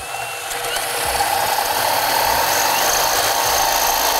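A power drill bores into a steering lock, a loud steady high-pitched whine that builds and holds throughout, close up and without talk.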